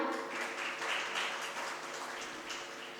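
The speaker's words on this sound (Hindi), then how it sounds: "भरत मुनि के लिए एक बार जोरदार तालियां।" Audience applause after a folk dance performance at a competition in Varanasi, a fairly soft, steady patter of clapping heard from a distance, with a faint tonal hum underneath.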